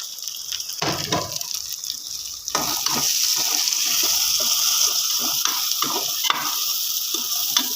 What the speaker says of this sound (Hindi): इसको हमने तकरीबन 2 से 3 मिनट ही फ्राई करना है